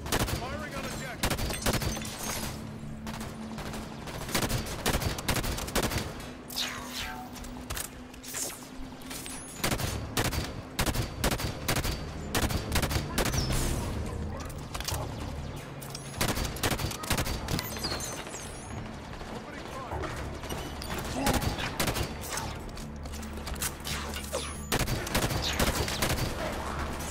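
Gunfire in Halo 5, with dense rapid volleys and bursts of automatic fire that carry on through the whole passage. Explosions and occasional talk are mixed in.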